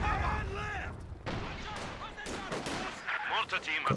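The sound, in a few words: G43 rifle gunfire in video game Company of Heroes 2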